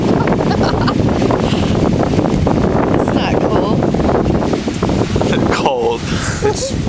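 Strong wind buffeting the microphone on a beach, a loud continuous roar and rumble with surf-like wash underneath, while people talk throughout.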